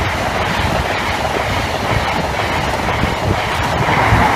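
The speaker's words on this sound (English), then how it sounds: "Next through for Virgin Trains East Coast 1 Echo 15 from Aberdeen to London King's Cross," Virgin Trains East Coast passenger service from Aberdeen to London King's Cross passing Barnby Lane level crossing in Nottinghamshire: a loud, steady roar of rolling wheels and rail noise, close by and continuous throughout.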